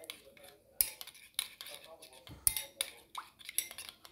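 A spoon clinks against a bowl while mixing a small spoonful of oud oil with a spoonful of milk, giving several light, sharp taps at irregular intervals with soft scraping between them, close and fairly quiet.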